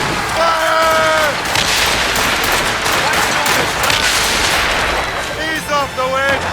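Ship cannon fire during a naval battle in the video game Assassin's Creed Rogue: heavy booming volleys and crackling shots roll on over a loud, dense din, with shouted voices heard at the start and end.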